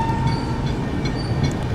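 The 12840 Chennai–Howrah Mail superfast express pulling out of Samalkot Junction, heard from inside the coach as a low rumbling of wheels and car movement with faint metallic tones, steady and close.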